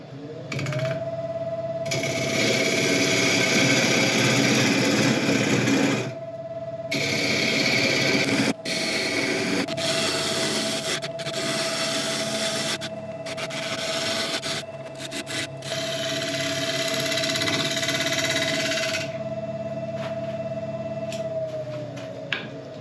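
An ancient oak bowl spins on a woodturning lathe while a tool tidies its top rim, giving a steady close motor whine with scraping and cutting bursts that stop briefly twice.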